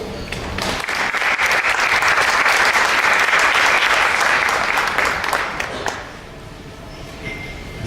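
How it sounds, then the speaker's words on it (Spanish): An audience at Cine Arte Alameda breaks into loud, sustained applause for a speaker on the Bhagavad-Gita, swelling quickly, holding for about five seconds, then fading out to quiet room tone. "un fuerte aplauso"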